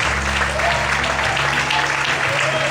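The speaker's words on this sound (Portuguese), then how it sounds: "Você pode aplaudir a Deus" Steady applause from a church congregation during an evening worship service, dense and continuous clapping filling the room at close range, with a faint tonal hum and a few voices underneath.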